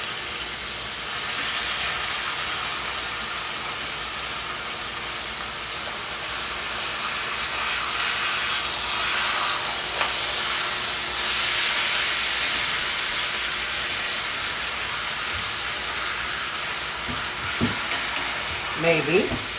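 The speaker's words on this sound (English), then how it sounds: "it's been 3 minutes on the steak. We're going to flip them." Beef steaks just flipped in a pan sizzle and hiss steadily throughout, close and fairly loud. A few clinks and scrapes come near the end.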